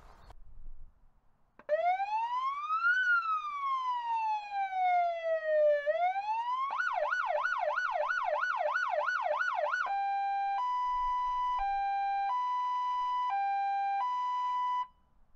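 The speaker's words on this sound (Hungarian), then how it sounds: "ez a szirénának a hangválasztója, ugye különböző hangokon meg lehet szólaltatni a szirénát." Siren unit fitted to a Fiat Ducato 3.0 JTD campervan cycles through several tones: a slow rising-and-falling wail, a rapid yelp warble, then alternating two-tone hi-lo beeps, loud and close with no talk.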